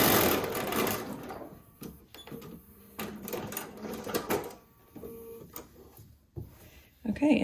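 Sewing machine stitching a quarter-inch quilt seam in a series of rapid mechanical bursts, close and loud, starting and stopping with short pauses between runs.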